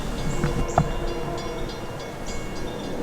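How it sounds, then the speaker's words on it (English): LIRR M3 commuter train arriving at a railroad crossing, a steady rumbling roll with faint high squeals and clanks, heard from close by and continuous throughout. "we do have the M3s coming in at 7628 now, as the gates are now coming down"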